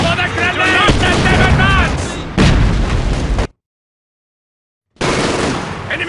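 Artillery fire in the Company of Heroes Stalingrad battle: loud, dense booming barrages and bursts that cut off abruptly into silence and then resume.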